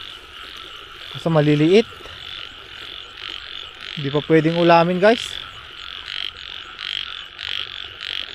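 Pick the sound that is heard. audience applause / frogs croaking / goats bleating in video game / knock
frogs croaking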